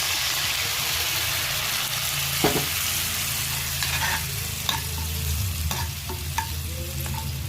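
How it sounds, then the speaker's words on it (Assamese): Onions simmer with a splash of water in a pan for egg kurma, a constant loud sizzle and bubbling broken by occasional clicks and taps of a stirring utensil, with no talking. "এতিয়া মই অকণমান পানী ঢালি দিম আৰু পিঁয়াজখিনি অকণমান সিজিবলৈ দিম"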